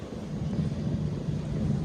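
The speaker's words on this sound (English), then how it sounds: "Windy, so if you hear a lot of wind, I apologize" Steady buffeting wind rumbles across the microphone outdoors in the downtown historic district of Fernandina Beach, a low, continuous blustery roar with no other clear sounds.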